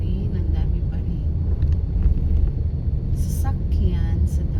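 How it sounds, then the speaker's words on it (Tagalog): Steady traffic on a busy road on a Sunday, a continuous low rumble of passing cars and engines close by, with a few brief higher whooshes and horn-like tones breaking through the drone. "Sunday pero busy road pa rin,"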